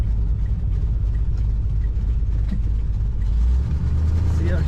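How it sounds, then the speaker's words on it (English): A 1971 Chevrolet Nova with a 4-speed manual gives a steady, loud, deep rumble from its engine and exhaust, which stays close and continuous throughout. "This car sounds pretty mean. Excellent exhaust sound."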